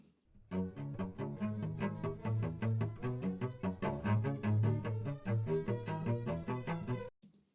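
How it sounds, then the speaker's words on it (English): Low bowed strings from a cello section playing a short, dry passage with moving notes, close and without reverb, ending cleanly. "Let's go with the cellos here, dry."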